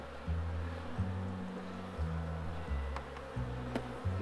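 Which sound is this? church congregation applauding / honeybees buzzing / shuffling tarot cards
honeybees buzzing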